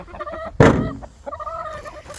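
Hens in a cold backyard coop at evening chores give a loud squawk amid softer murmuring clucks and low throaty calls, close by.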